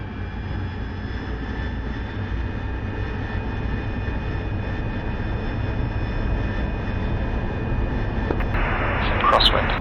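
A jet aircraft in the DCS flight simulator rolls for takeoff from an LHA, its engine a steady, loud, broadband roar that builds slightly toward the end, with radio voices talking over it.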